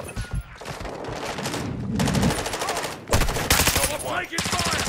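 Call of Duty Modern Warfare 2 gunfire, rapid automatic bursts crackling loud and close in several long volleys with short gaps, and a voice briefly heard among the shots.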